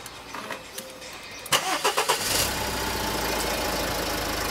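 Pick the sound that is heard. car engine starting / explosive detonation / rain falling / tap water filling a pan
car engine starting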